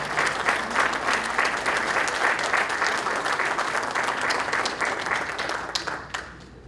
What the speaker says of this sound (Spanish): Fotos y palmas nuevamente de todos, con mucho entusiasmo.